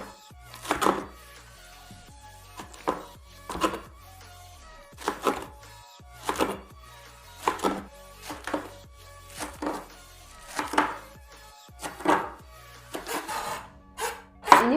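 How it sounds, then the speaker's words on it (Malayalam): Spring onion being finely chopped with a knife on a cutting board, a steady series of crisp, close knife strikes arriving in quick bursts with short pauses between them, and no talking over it. "ഇത് ചെറുതായിട്ട് കട്ട് ചെയ്യാം."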